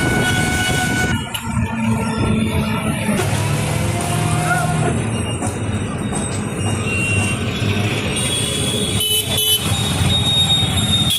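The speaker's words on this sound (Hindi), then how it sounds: "मैं रेलवे स्टेशन आ चुका हूँ, मऊ जंक्शन के" Busy platform ambience at Mau Junction railway station, with a steady rumble and clatter of a train moving through, a brief horn toot, and background chatter of people throughout.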